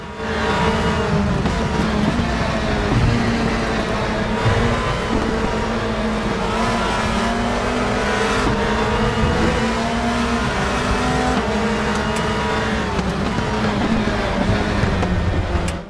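Race car engines roar continuously in RaceRoom, a racing video game, with sustained loud revving and passing cars layered together for the whole stretch, without any voices.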